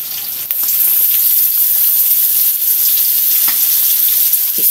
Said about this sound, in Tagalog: nagpo-fry na ako ng kaunting pork